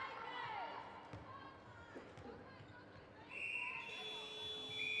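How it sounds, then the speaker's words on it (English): Final buzzer sounding at a tertiary netball championship match in a sports hall, a sustained electronic tone entering late and holding over court noise, squeaking shoes, ball bounces and a commentator's talk. "that's the final buzzer"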